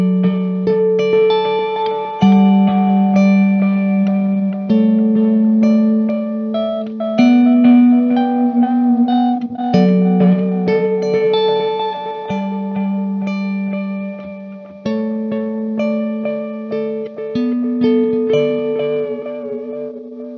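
Electric guitar through a T-Rex Replicator D'Luxe tape echo pedal set to high saturation and short mode, playing sustained chords that wobble gently in pitch, with smeared, warm repeats trailing each strum at steady, loud level.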